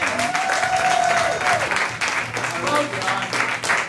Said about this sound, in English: Another round of applause for the comedian.